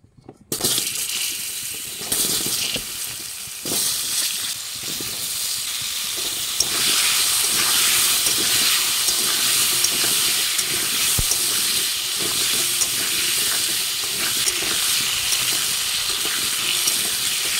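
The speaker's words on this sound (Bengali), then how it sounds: "এবার আলুগুলো ভেজে নেব।" Sliced potatoes frying in hot oil in a pan during village-style cooking on a rooftop, a steady loud sizzling hiss that builds after a brief quiet start and continues alone, with occasional clinks.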